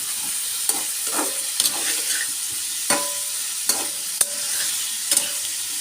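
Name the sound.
stir-frying shrimp with fruit in a pan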